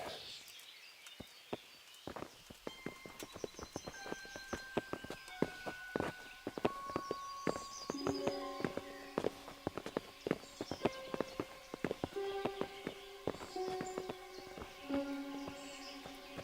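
Horses' hooves clip-clopping in the medieval game Kingdom Come: Deliverance, a steady stream of sharp hoof strikes and footsteps against a swelling orchestral score, with no talk.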